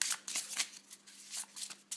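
A deck of playing cards is shuffled close up during a high-stakes card trick, quick repeated riffling bursts and soft flicks with short pauses between them.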